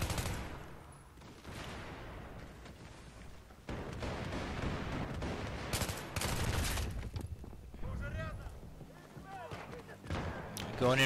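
Gunfire from an M4A1 rifle in Battlefield 3 on Xbox 360, loud dense bursts and rapid volleys running almost continuously, with combat noise and a few voice-like fragments mixed in.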